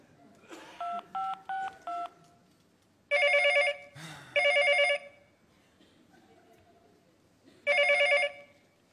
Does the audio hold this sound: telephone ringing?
yes